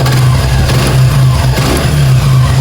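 A Suzuki Gixxer motorcycle engine runs after a full engine repair, giving a loud, steady, low, even drone close by with slight rises in pitch.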